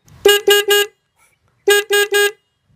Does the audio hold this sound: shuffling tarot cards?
no